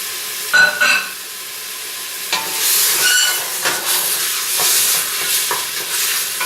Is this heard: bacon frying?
yes